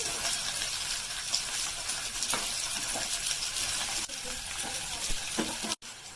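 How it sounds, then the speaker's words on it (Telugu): Sliced ivy gourd (dondakaya) deep frying in oil, a steady bright sizzle with occasional stirring clinks and scrapes of a utensil against the pan, close and continuous without talk. "ఇలా కొంచెం కొంచెము డీప్ ఫ్రై చేసుకోవాలండి"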